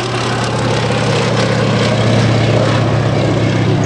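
Fairey Swordfish biplane fitted with a Bristol Pegasus engine of about 1,000 horsepower, flying at the Wings & Wheels show at Dunsfold: a loud, steady, droning radial-engine and propeller roar held throughout, with no talk.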